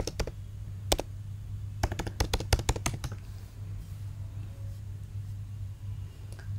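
Typing on a computer keyboard while entering an admin username and password: bursts of quick, close keystroke clicks, a fast cluster in the middle, then quieter scattered taps over a low background hum.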